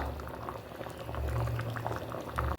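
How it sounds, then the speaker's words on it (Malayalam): Liquid bubbles and burbles at a steady rolling boil, with soft popping bursts throughout, fairly quiet and close. "അപ്പോൾ കണ്ടോ, നന്നായിട്ട് തിളച്ചു"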